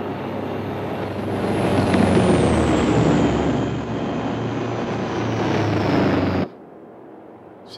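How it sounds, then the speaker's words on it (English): A heavy truck roars close behind, a loud sustained engine rumble with a hiss that swells and then cuts off sharply near the end, with no talking. "I had a truck behind me."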